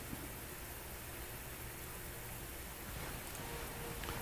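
Steady rain in the video game Grand Tactician: The Civil War, a dense continuous hiss of falling water with a faint low rumble underneath, constant and even throughout with no voices.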